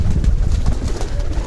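A male pigeon cooing up close, a low, throaty rolling coo that pulses through the short moment at fairly strong volume.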